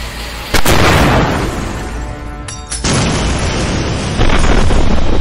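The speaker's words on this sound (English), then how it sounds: "dumped a crude rack of explosives and incendiary devices off the Zeppelin" Bombs and incendiary devices dropped from a Zeppelin airship exploding, a loud dense roar of blasts with sudden bursts and crackling rumble continuing throughout, heavy and close with no voices.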